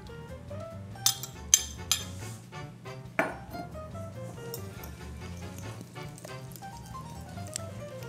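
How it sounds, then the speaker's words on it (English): Gluten-free, dairy-free scone dough being mixed in a bowl until incorporated; a few sharp utensil clinks and taps against the bowl, then softer scraping, over quiet background music with no talking. "I'm mixing until incorporated."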